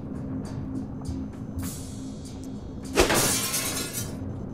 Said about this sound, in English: I'm just gonna break the glass.